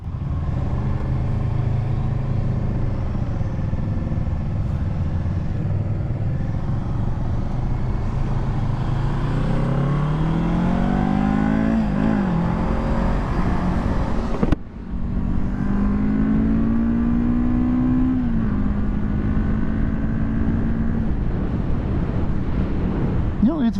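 A 2023 Kawasaki Z650 motorcycle engine drones steadily at around 6,000 RPM while riding, with a continuous hum and wind rush throughout and subtle pitch rises as the throttle shifts.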